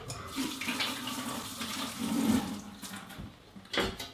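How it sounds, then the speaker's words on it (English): Water runs steadily from a kitchen tap while hands are washed beneath it, splashing and gurgling close up with small shifts in flow, then a brief stronger gush near the end. "Give my hands a quick wash"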